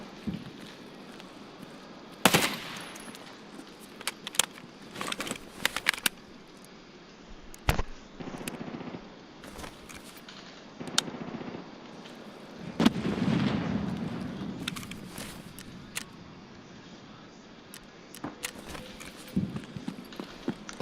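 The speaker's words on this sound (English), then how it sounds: "somebody's using a grenade launcher" Grenade launcher rounds going off somewhere on a video game map, heard as scattered sharp distant booms and thuds at irregular intervals over a steady ambient bed, with one heavier rumbling blast near the middle.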